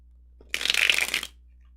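A deck of cards being shuffled gives one quick, crisp riffling burst lasting under a second, close and alone in a quiet room.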